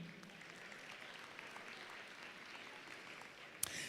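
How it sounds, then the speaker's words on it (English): A high school graduation audience applauds with steady, fairly faint clapping that carries on evenly, ending with a sharp click. "Give yourselves a hand."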